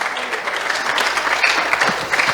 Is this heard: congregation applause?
yes